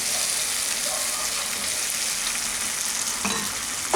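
White mustard and green chilli paste fries with ridge gourd in a Bengali-style pan dish, giving a loud, steady, close sizzle with faint stirring scrapes throughout and no talking.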